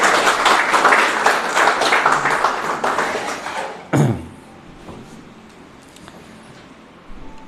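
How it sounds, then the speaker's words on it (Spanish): A church congregation claps together for several seconds, then a sharp thud cuts it off and the room settles into quiet murmuring. "Demos un aplauso al Señor."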